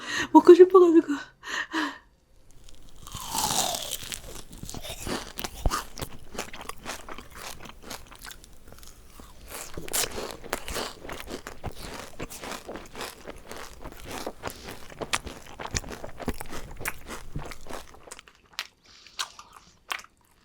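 Someone bites into and chews a chewy Dubai cookie up close, with soft crunches and sticky, wet chewing and smacking in an uneven rhythm. Someone talks briefly at the start, and a few quiet clicks come near the end.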